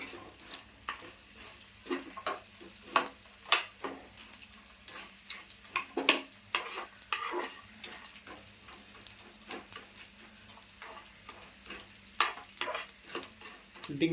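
Edible gum (dink) frying in ghee, a soft continuous sizzle broken by frequent stirring clicks and scrapes of the spoon in the pan, heard close and fairly quiet with no talking.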